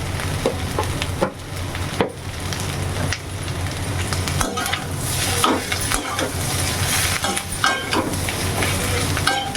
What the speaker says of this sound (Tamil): நல்லா எண்ணெயிலே கொஞ்சம் நல்லா வதங்கிடுது